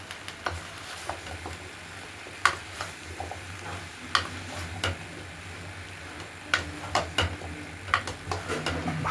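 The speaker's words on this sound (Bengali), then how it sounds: "কুমড়োটাও দিয়ে দিলাম দিয়ে মশলার সাথে ভালো করে মিশিয়ে নেবো" Pumpkin pieces and dried shrimp tossed with spices in a pan, giving scattered spoon scrapes and clicks over a faint low sizzle, close and moderately loud, with no talking.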